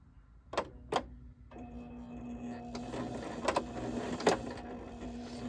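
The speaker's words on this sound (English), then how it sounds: "I want to back stitch right here so that way it can lock the stitches down" A hand-cranked sewing machine back stitches black thread on a quilt appliqué, a steady low mechanical whir running under a few sharp clicks and ticks as the needle reverses, close and moderately loud.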